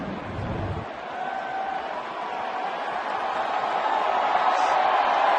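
Crowd noise at a Red Sox vs. Yankees baseball game swells steadily in a big stadium, a broad distant roar gradually growing louder, with a brief low thump at the start.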